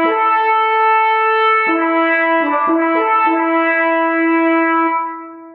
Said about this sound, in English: listen to the French horn call that's very prominent at the beginning of Mahler's Das Lied